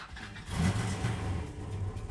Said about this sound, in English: will you fire the engine?